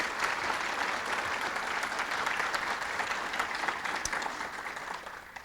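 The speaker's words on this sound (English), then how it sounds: "Can we give them one more round of applause?" Sustained audience applause at a city State of the City address, honoring a police and fire color guard and a high school string ensemble, steady dense clapping that fills the room for the whole stretch before tapering slightly at the end.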